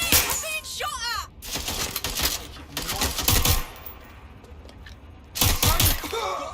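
Gunfire aimed at the player in the video game Watch Dogs: Legion, bursts of sharp cracking shots and shattering in several loud clusters, with chirping game sounds early on.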